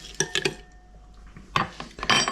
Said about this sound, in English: So I'll just give that a little mix about.